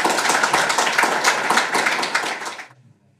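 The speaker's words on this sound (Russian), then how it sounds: "Аплодисменты, пожалуйста." Audience applause at a literary club evening in Moscow's Arbat, a dense burst of many hands clapping loudly for a couple of seconds before stopping abruptly into near silence.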